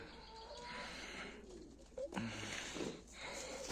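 Young pigeons cooing around a pigeon loft, soft low coos at a distance with faint bird chatter, outdoor noise and a brief rustle, fairly quiet overall.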